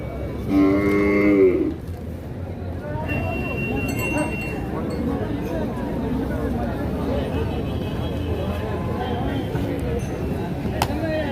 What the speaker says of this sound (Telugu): ఇక్కడ 2 తూర్పు ఎద్దులు ఉన్నాయి.